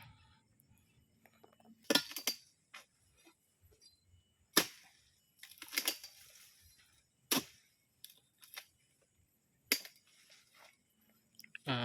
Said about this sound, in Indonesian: Tuh ada yang masak tuh kawan.